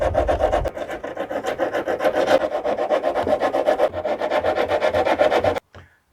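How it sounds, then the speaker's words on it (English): Steady back-and-forth sanding scrapes across painted wood on a small Passagemaker dinghy, continuous and close, ending abruptly with a soft knock. "Of course, I'll be sanding into the paint."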